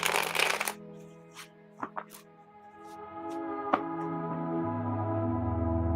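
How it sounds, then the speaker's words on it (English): A deck of reading cards is shuffled in a quiet room, with a burst of riffling at the start and then scattered soft card slaps and taps over a steady low hum. "I shuffle until spirit says that's enough."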